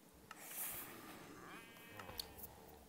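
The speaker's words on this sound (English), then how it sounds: "My sheep tried to escape." Sheep bleating in Minecraft, a few short synthetic bleats spread across a noisy background with faint clicks and higher tones, moderately near.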